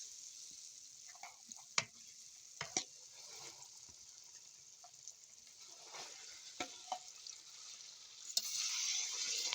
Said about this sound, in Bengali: এখন সবগুলোকে নেড়ে নিয়ে ম্যাশ করে রাখা জলপাইটাকে ঢেলে দেব।